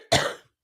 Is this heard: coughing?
yes